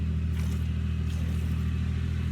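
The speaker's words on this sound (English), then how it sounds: "there's always a tractor in the background of my videos making noise" A tractor engine runs in the background with a steady low drone and faint rising revs, moderately distant and without voices.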